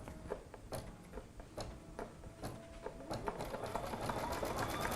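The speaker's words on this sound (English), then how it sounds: "I'm just gonna lower my foot, and we're going to run that finishing satin stitch" A sewing machine runs a finishing satin stitch on a Christmas ornament, its rapid zigzag needle ticking steadily and close, with a faint voice underneath at moments.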